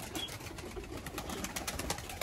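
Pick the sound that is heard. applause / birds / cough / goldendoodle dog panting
birds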